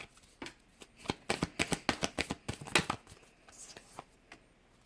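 Tarot cards being shuffled and drawn during a collective reading, a quick run of crisp, close riffling taps and slaps for about two seconds before settling into softer handling.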